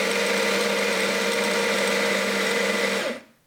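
Baratza Sette 270 W coffee grinder runs with a loud, steady, high-pitched motor whine and grinding buzz for about three seconds before winding down to silence.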